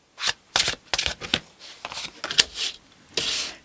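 Tarot cards shuffled in a run of quick, crisp riffling bursts with brief pauses between them, close and fairly loud, no voices.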